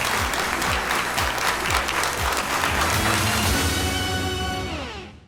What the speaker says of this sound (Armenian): շատ բարձր ծափարենք Եվգենին եւ մաղթենք նրան հաջողություն